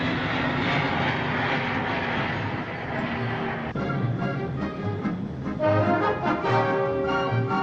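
A loud, steady roar of 1960 airliner engines running continuously at takeoff, droning with shifting tones as the plane powers up.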